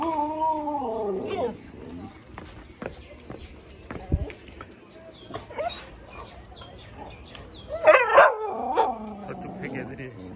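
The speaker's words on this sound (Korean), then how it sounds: "애들이 오늘 막 짖길래 한번 나와봤어요." Several dogs barking outdoors in the morning in India, with howling, wailing yelps and scattered barks, rising to a louder cluster of barking near the end.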